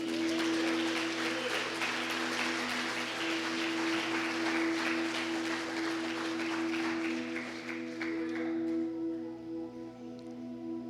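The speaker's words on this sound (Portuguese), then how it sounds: "Você pode aplaudir o Senhor por isso?" A church congregation applauds steadily, a broad wash of clapping over a sustained tonal hum, fading gradually toward the end.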